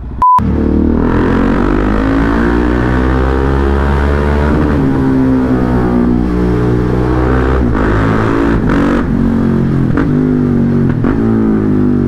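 A loud motorcycle engine revs up and down close by, its throaty harmonic roar rising and falling in repeated surges over about twelve seconds, with no talk.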